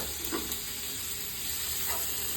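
Garlic sizzling in a pan for a grilled chicken with mushroom sauce dish, a steady close frying hiss with faint stirring scrapes and no voices.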